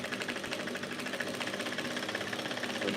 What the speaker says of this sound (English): So back stitch first, and then stitch that line.